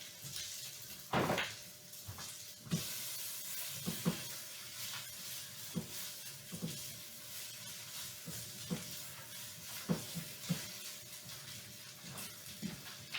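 Beans with lime juice and cilantro stirred in a pan for vegetarian fajitas, a faint steady sizzle broken by intermittent scrapes and taps of the utensil against the pan, quiet and close with no voices.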